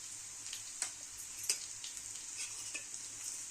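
Green chillies fry with turmeric in a pan, giving a continuous bright sizzle, broken by several sharp scraping stirs of a spoon against the pan.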